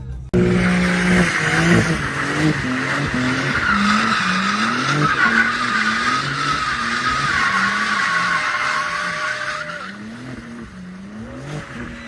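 Tires of a BMW M3 Competition squealing and skidding in a long, loud continuous screech over a revving engine whose pitch rises and falls in repeated waves, fading slightly near the end.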